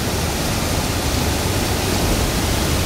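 The flooded Ghod river pours over the top of a weir in a loud, steady, unbroken rushing roar that fills the whole moment.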